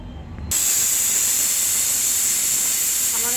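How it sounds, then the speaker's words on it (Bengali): A kitchen pressure cooker's whistle bursts into a loud, continuous hiss of escaping steam that starts abruptly and keeps going without a break. "আমার এটা 3টে সিটি হয়ে গেছে"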